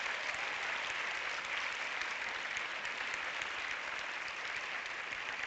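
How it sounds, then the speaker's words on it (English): Audience at a European cinema awards ceremony applauding, an even wash of many hands clapping, steady and fairly distant, lasting throughout without speech. "Big round of applause."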